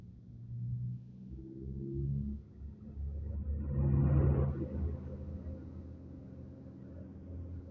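Intercity bus taking a sharp curve on the southern ring road in West Java: a low engine rumble swells to a peak as it passes, then fades into a steady drone in the distance.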